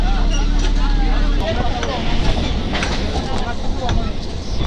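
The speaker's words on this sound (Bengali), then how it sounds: "ঢাকুরিয়ার লাইনে ঢুকে গেছে ট্রেনটা, ঢাকুরিয়ার দিকে যাচ্ছে।" A local train runs between Ballygunge and Dhakuria stations with a steady rumble and rattling wheel clatter. A loud low hum fades out after the first second and a half, and background voices come and go.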